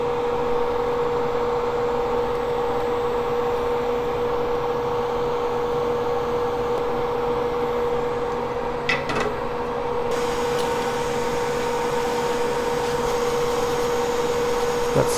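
A hot air rework station blows a steady, fairly loud stream of air at reduced airflow while resoldering a flash drive's memory chip back onto its water-damaged board, a continuous hiss with a faint tone and brief clicks.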